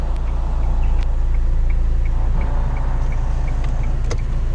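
A learner driver's car pulls out of a tight parallel parking spot in first gear with the wheel at full lock, its engine a steady close hum throughout with faint ticking over it.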